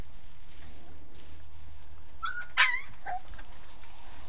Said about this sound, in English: she is barking at